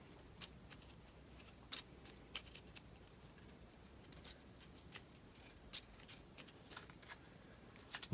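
A deck of cards for a LOTR: Journeys in Middle Earth board game is shuffled by hand, giving faint, quick riffling snaps and taps at irregular intervals over a quiet background.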